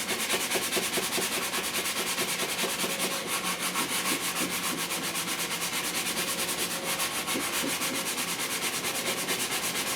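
Steady close-up scrubbing and rubbing of greasy grime sprayed with a retail degreaser, a continuous rasping agitation that goes on without a break and without talk.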